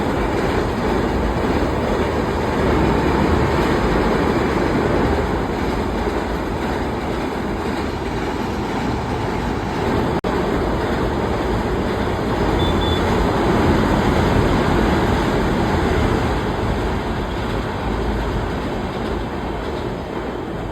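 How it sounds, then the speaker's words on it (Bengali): A train passes along a railway line near the Ganga river, a continuous loud rumble with wheel clatter and rolling noise sustained across the whole stretch, fairly close. "ট্রেন যাচ্ছে"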